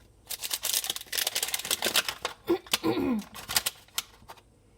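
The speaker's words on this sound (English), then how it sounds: "So there's a little perforated part of the packaging here. Remove sleeve." Perforated cardboard sleeve being torn off a Dylon machine fabric dye pack, a run of sharp, crisp ripping and crinkling bursts close by, uneven in rhythm over a few seconds with brief pauses.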